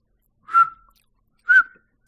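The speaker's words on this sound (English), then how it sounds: "Just whistling." A person whistles two short, clear notes about a second apart, close by, with silence around them.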